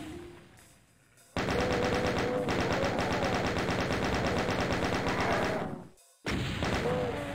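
Chaingunner enemies in a video game unleash rapid sustained machine-gun fire, a loud continuous rattle that breaks off briefly near the start and again near the end before resuming.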